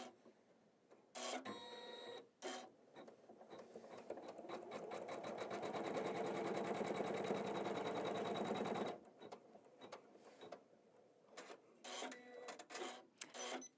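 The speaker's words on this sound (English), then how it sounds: "Okay, now our next step is going to sew another placement line." Embroidery sewing machine stitching a placement line in a quiet room, a rapid rhythmic needle clatter running steadily for several seconds and framed by short bursts of mechanical clicks and movement.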